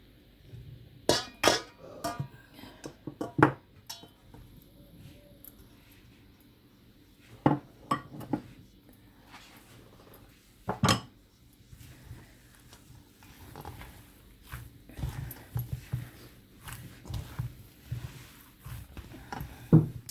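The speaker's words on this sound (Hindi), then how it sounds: "थोड़े थोड़े ब्रेड क्रम्ब डाल के इसे मिक्स करेंगे" A spoon scrapes and clinks against a bowl while hash brown bite mixture is stirred together with bread crumbs, giving irregular sharp taps and knocks with quiet gaps between them, close by and without talk.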